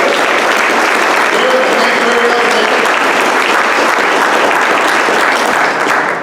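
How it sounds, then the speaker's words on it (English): A dinner audience at a county party event breaks into loud, sustained applause, a dense continuous roar of many hands that holds steady for several seconds before easing slightly at the end. "give a round of applause to Jericho and the crew here with the county party"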